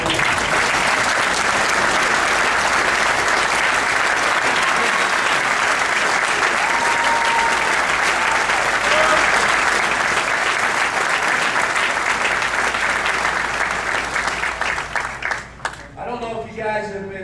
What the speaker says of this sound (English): I'd like for you guys all to stand up and get a round of applause.